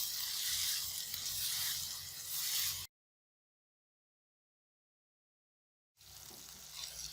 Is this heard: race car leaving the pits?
no